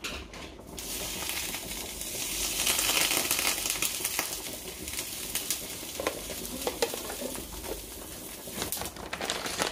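Butter melts and sizzles in a frying pan with a dense, continuous hiss and crackle, and scattered light clicks and scrapes from a utensil are heard throughout.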